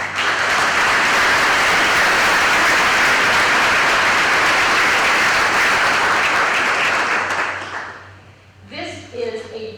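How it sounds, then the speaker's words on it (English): Loud, sustained applause from a crowd at a ribbon cutting for a new community building for young families, a thick continuous roar of clapping that fades near the end as a voice begins speaking. "And that deserves a round of applause."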